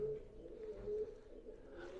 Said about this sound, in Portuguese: São pombas que estão aqui.